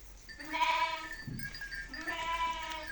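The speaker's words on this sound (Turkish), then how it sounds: "Koyunlar yemek yiyor." Two wavering bleats from sheep close by as they eat, one after the other, with a soft low grunt between them and no talking.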